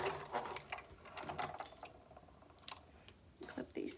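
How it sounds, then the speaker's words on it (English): Home sewing machine stitching a fabric face mask, a quiet rapid mechanical clatter in short bursts that stops and restarts, close by. "keep on stitching and do a little back stitch right before I finish, just to lock that in"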